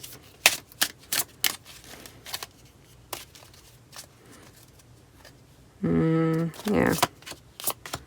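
Tarot cards are shuffled in a few quick, crisp riffling bursts near the microphone between sharp taps and handling clicks, and a voice briefly speaks.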